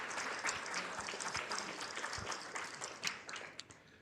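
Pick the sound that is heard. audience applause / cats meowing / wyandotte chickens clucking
audience applause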